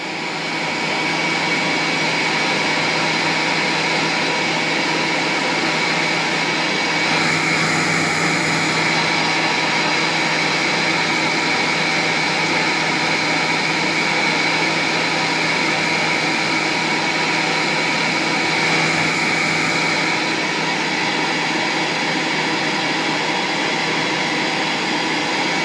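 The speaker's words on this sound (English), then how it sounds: "So we'll give it a wee dry with the hairdryer." A hairdryer blows light, warm air onto a jungle cock feather cape dyed fluorescent yellow, producing a loud, steady whooshing drone for the whole stretch with only slight shifts in tone and no talking.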